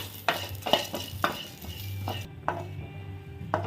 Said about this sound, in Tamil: இது கூட கொஞ்சமாக கருவேப்பிலையும் ஆட் பண்ணிக்கிறேன். இதையும் சேர்த்து நல்லா ஃப்ரை பண்ணி எடுத்துடலாம்.